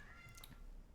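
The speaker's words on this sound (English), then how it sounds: "I know y'all heard the cat meow just then." A cat gives a single short meow, faint against a quiet indoor background.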